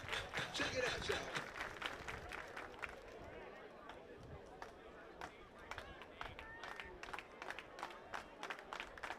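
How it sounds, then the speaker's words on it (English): A baseball crowd at an IBL playoff game between the Welland Jackfish and Toronto Maple Leafs claps in rhythm, sharp evenly spaced claps that start loud under a voice and then thin out, sounding fairly distant. "Please, everybody clap your hands."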